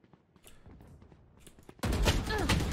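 Rapid gunfire in Valorant erupts loudly partway through, a dense burst of shots following quieter game sounds and faint voices.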